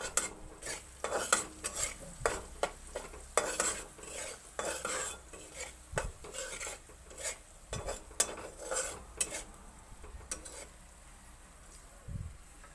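Taro and fish fry in oil in a pan while a metal spoon stirs them, giving repeated scraping clinks over a low, soft sizzle with no one speaking.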